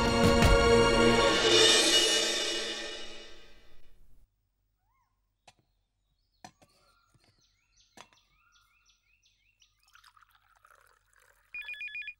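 A short burst of electronic telephone ringing near the end, following a long, loud wailing tone and a stretch of faint scattered clicks.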